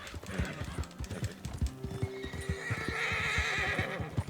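A horse in Red Dead Redemption 2, traveling through Lemoyne, whinnies loudly and nervously over a steady clip-clop of hooves, close by with no talk.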